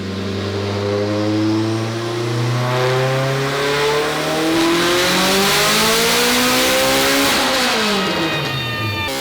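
A tuned Acura Integra engine screams on a dyno, climbing steadily through the revs in one long, loud pull and then dropping off sharply near the end.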